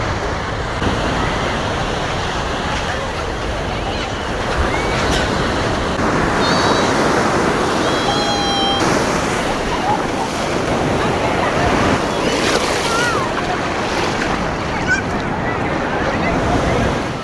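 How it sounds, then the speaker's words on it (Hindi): Strong ocean waves surge and wash onto a beach in the evening near Pondicherry, a continuous loud roar of surf with wind buffeting the microphone throughout. "वेव्स काफ़ी तेज़ हो गई हैं अभी, बिकॉज आई थिंक इवनिंग है तो टाइड्स थोड़ी हाई हो गई हैं।"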